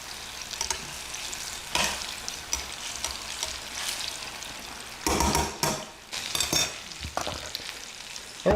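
Apple fritters cooking in hot oil, a fairly quiet, steady bubbling sizzle with several louder crackling bursts near the middle and end, no one speaking.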